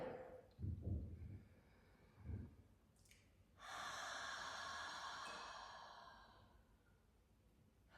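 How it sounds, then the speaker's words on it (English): A slow breathing exercise: a couple of soft nasal inhales, then a long, loud, airy exhale out through the mouth that gradually fades, close to the microphone with no talking. "breathe out through your mouth as if you're trying to expel the breath"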